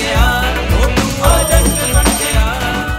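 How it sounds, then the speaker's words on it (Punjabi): A telephone rings in a Punjabi comedy film scene, with repeated electronic ringing tones in a steady rhythm. The ringing is loud and close over a low background hum, and no one speaks. "ਇਹ ਕਿਹਦਾ ਫੋਨ ਆ ਗਿਆ?"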